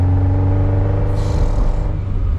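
Ferrari Dino 208 GT4, a 50-year-old car, with its engine droning steadily and loud throughout, a brief hiss or shift noise midway over the constant low hum.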